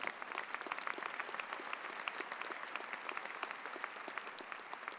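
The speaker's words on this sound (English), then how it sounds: "He does deserve a round of applause." An audience at the 2012 commencement ceremony gives a round of applause, many hands clapping steadily and evenly, distant and fairly soft, with no talking.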